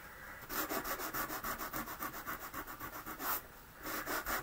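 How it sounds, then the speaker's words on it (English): Sander rubbing across card stock with a white core paper, a quick close rasping scrub in rapid even strokes, pausing briefly before a final burst. "my sander. If you've got light, very light sandpaper, you could use that as well"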